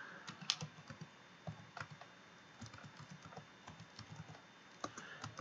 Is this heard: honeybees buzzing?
no